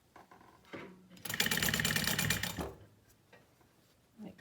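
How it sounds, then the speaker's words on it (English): Sewing machine stitching a fabric face mask with a filter pocket, a close, loud steady run of rapid stitching lasting just over a second, framed by quieter handling of the fabric before and after. "And we continue sewing along."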